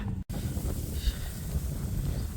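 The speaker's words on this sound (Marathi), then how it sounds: "आला शीतळ शांतीचा वारा" A cool wind blows steadily near the Narmada river, a continuous breathy rush with a brief dropout at the start and a slight swell around the middle.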